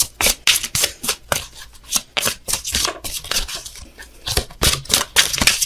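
Tarot cards shuffled by hand: rapid, rhythmic riffling and flicking bursts repeating throughout, crisp and close, with no talking.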